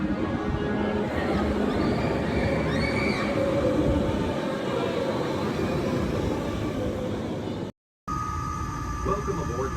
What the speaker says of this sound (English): Welcome aboard the Walt Disney World monorail to Epcot.